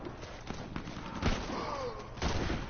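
Bolt action rifle gunfire in the Warface shooter game, a few separate sharp shots spaced out over a busy, fairly quiet battle background, with the loudest report near the middle.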